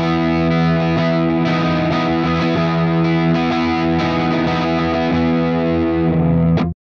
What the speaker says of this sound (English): if we turn it all the way to the right, we're getting only the compressed signal